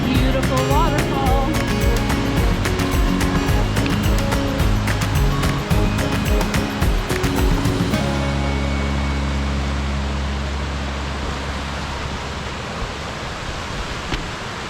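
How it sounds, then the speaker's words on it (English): Waterfall along Lewis Creek Trail, a steady, loud broadband rush of falling water that fills the whole stretch, heavy with low rumble and continuing unbroken as it eases slightly toward the end. "look at that beautiful waterfall"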